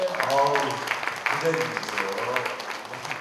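Guests at a Korean first birthday party clap for the grandmother, the applause running throughout while voices speak and exclaim over it.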